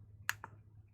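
Clicky replacement buttons on an Atari joystick give two quick, crisp clicks in close succession, heard up close against a faint low hum.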